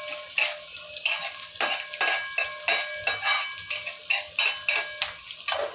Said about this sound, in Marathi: हिरवी मिरची पण चांगली छान तेलामध्ये परतून घ्यायची